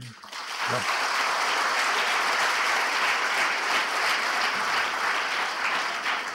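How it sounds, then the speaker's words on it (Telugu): A church congregation claps for Sunday school teachers, rising quickly into loud, continuous applause that holds steadily throughout. "మరి మీరు కొట్టిన చప్పట్లు అంత ఇది లేదు."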